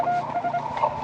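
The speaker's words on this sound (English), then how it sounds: "This is Morse code." Morse code comes over an amateur radio at a field day station as a string of short and long beeps of a single pitch, clipped and rhythmic, set against a background of radio hiss.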